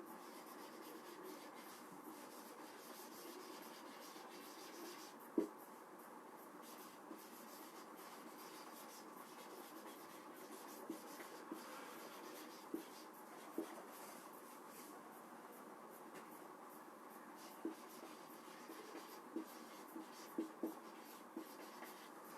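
A pen writing on paper, a faint continuous scratching close by with a few tiny taps scattered through it, and no voice.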